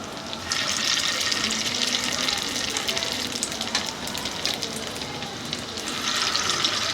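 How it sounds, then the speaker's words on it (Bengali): Soybean chunks fry in hot oil over a medium gas flame, giving a steady, close, bubbling hiss that runs throughout with small swells and no talking. "এইভাবে আমি গোল গোল করে সব সয়াবিনটা তেলের মধ্যে দিয়ে দেব।"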